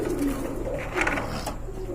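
Pigeons at a crowded bird sale coo in soft, low, repeated phrases beneath a steady hum of background noise and faint murmuring.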